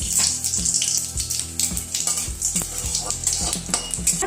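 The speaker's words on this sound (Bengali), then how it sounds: "তেল গরম হয়ে গেছে, এই যে একটা শুকনো লঙ্কা, একটু জিরে এর মধ্যে ফোড়ন দিয়ে দেবো।" Dry red chilli and cumin seeds dropped into hot oil for tempering, a bright close crackling sizzle with spatters and a few clinks of a spoon against the pan, no voices.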